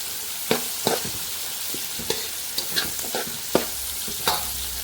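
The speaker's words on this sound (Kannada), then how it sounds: "ಇಲ್ಲಿ ನಾನು ಈರುಳ್ಳಿಗೆ ಸೊಪ್ಪು ಹಾಕ್ತಿದ್ದೀನಿ." Greens stir-fry with onions in a pan, a steady sizzle punctuated by sharp spatula scrapes and taps at irregular intervals, close and alone without talking.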